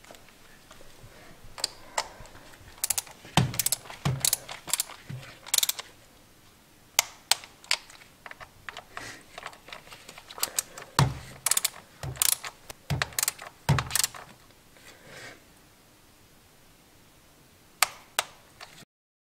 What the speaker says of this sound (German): Jetzt werden die Schrauben im Kreuzverfahren mit 10 Newtonmeter angezogen.